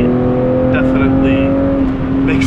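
A BMW E36 M3 GT homologation car with a 295 horsepower engine and 264 degree cams drones loudly at steady revs from inside the cabin, a constant tonal hum with a voice talking over it.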